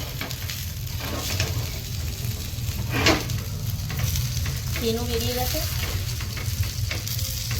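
Tandoori chicken pieces sizzle steadily in a pan, a dense close frying hiss with occasional clinks of a utensil, while a person speaks briefly over it.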